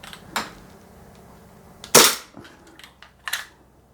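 G&G GPM1911 gas blowback airsoft pistol firing through a chronograph, a few sharp separate cracks at irregular intervals, one much louder, with quiet gaps between shots.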